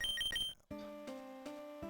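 A phone rings in the Pokemon Lazarus video game: a short beeping chiptune trill, then a sustained electronic ring tone, clear and alone with no talk.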